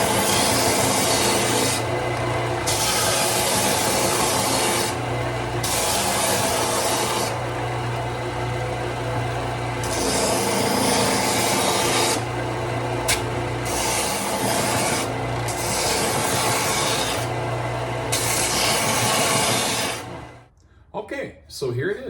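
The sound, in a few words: belt sander sanding wooden turtle box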